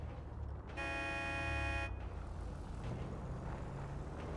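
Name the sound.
car horn honking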